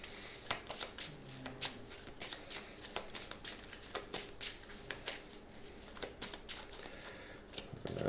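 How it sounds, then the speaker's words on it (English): A deck of playing cards shuffled repeatedly at close range during a solo Clank! Catacombs board game session, with quiet riffling flicks and soft slaps that continue steadily for several seconds. "and I need to shuffle."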